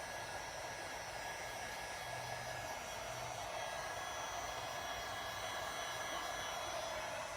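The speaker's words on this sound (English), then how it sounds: "So let's do our heat gun again." A heat gun blows on resin art, producing a steady, even whooshing hiss of moving air at a moderate level throughout, with no voices.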